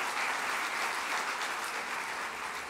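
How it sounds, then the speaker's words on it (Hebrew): Studio audience at an Israeli political talk event bursts into steady applause, a dense wash of many hands clapping continuously at even loudness from start to finish, no voices on top. "אפשר למחוא כפיים, כן."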